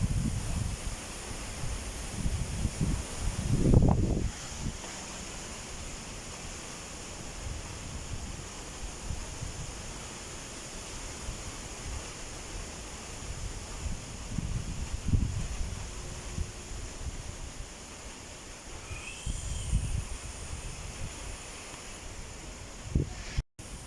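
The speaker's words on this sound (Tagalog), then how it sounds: "Ugong lang ng hangin maririnig natin yung mga halaman" Wind gusts roar across the microphone and rustle through nearby plants after a typhoon, rising and falling in low blustery surges over a steady background hiss.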